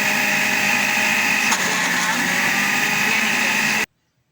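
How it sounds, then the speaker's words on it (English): A kitchen blender whirs steadily as it purées homemade cream cheese made from milk and vinegar, a loud, even motor drone running for almost four seconds before cutting off abruptly into silence. "At this point, I'm going to blend my cheese."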